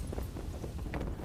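A horse's hooves clip-clop in a quick uneven rhythm on open ground, moderately close and fairly soft, with a faint breeze in the background.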